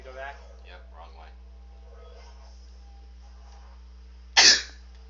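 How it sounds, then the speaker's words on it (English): A single sharp, loud cough bursts out near the end of a mostly quiet stretch, following faint earlier talk over a steady low hum. "That cough sounded like it hurt."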